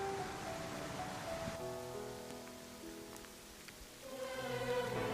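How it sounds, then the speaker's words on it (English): Steady rain patters across surfaces on an overcast trail at Willow Creek in a broad, continuous hiss, with a faint tonal hum underneath and no voices. "It's rainy. Hopefully it'll clear up."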